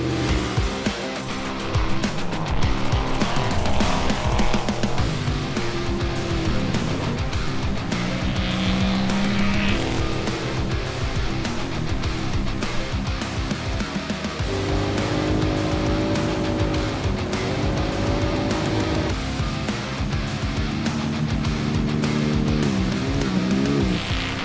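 Trophy truck engine revving and shifting loudly throughout while lapping a desert pre-run course, with steady close-up mechanical roar rising and falling with throttle.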